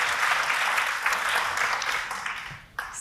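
Audience applause at a live cloud-hacking talk, a broad steady wash of clapping hands that holds for about three seconds, dips briefly near the end, then surges again.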